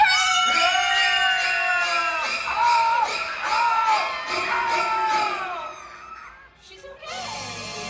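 At a special effects show at Universal Studios Hollywood, an audience screams together on cue, a loud, sustained shriek of many voices lasting several seconds before it breaks off and fades.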